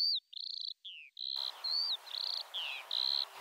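Insects such as crickets or grasshoppers chirp in a field, short high-pitched trills and sweeping chirps repeating in quick succession, clear and close over faint background hiss, with no voices.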